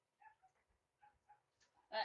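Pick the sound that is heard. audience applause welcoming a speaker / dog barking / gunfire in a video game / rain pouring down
dog barking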